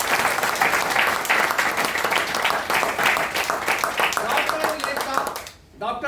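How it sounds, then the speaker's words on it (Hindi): Loud, sustained audience applause at a DXN marketing-plan meeting in India, dense clapping through most of the stretch with voices mixed in, then a brief dip near the end as a voice begins over it. "इनके लिए जोरदार तालियां"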